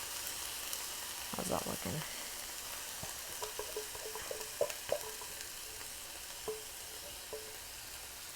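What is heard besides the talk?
tomato sauce sizzling and splattering in a pan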